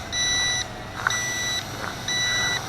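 An electronic warning beep from a WLToys Q212G FPV drone in altitude hold sounds three times in a steady rhythm, each long high tone lasting about half a second, with a faint hum underneath.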